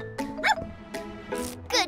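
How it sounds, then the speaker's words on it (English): A cartoon sniffer dog barks and yips in several short, bright bursts spread across the moment, close and fairly loud over a light musical background. "Morphle, morph into a sniffer dog."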